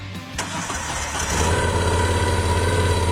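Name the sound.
motorcycle engine starting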